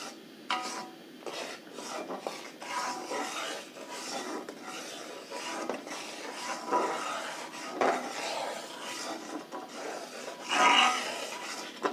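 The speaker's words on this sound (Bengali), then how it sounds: "এইভাবে আমরা ভালো করে সোপস্টোন পাউডারটাকে মিশিয়ে নেব" A pot of homemade soap mixture being stirred to blend in soapstone powder, with steady scraping and rubbing strokes against the pot that come close, rough and continuous, swelling briefly near the end.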